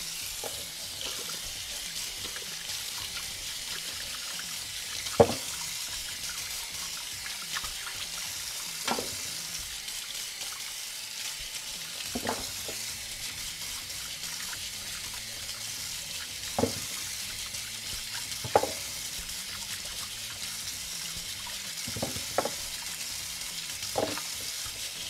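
Steady hiss of a running kitchen tap as a bag of carrots is washed and scrubbed, with occasional sharper knocks and clunks of carrots against the sink.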